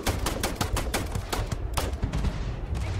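Gunfire in the space game Starfield: a close, loud series of sharp shots in a quick, slightly uneven rhythm, about a dozen reports across a few seconds with no talk over them.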